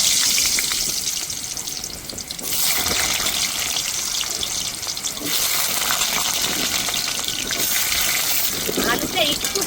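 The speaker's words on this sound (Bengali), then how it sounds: "আলুটা একটু ভেজে নেব।" Diced potatoes tossed into hot oil with black cumin sizzle and hiss loudly and continuously, a bright crackling frying noise close by with a spoon occasionally stirring.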